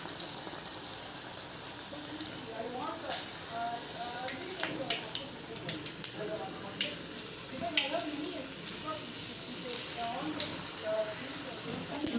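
Chili bajji dipped in batter fries in hot oil, a close, continuous crackling sizzle with scattered pops and bubbling, while someone talks over it.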